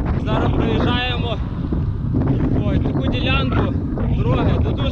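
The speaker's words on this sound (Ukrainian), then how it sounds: "Дороги, тут дуже вітряно." Strong wind buffets the microphone in steady heavy gusts while a vehicle travels by road near the ocean, and a person keeps talking under the roar.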